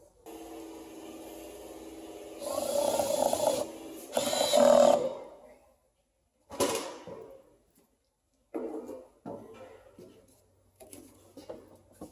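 Tools tighten engine parts during a spark plug and coil job on a 3.6-liter 2017 Dodge Grand Caravan, giving short ratcheting and clattering bursts separated by quiet gaps, fairly faint and close.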